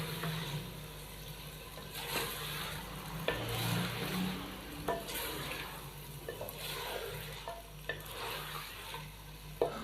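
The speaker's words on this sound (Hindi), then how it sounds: "अदरक लहसुन के पेस्ट के साथ ही हम इसकी 3 से 4 मिनट के लिए अच्छे तरीके से भुनाई कर लेंगे" Chicken sizzling in a pan with ginger garlic paste while being stirred, a continuous frying hiss broken by scraping and clattering spoon strokes, with some watery splashing, and no talk.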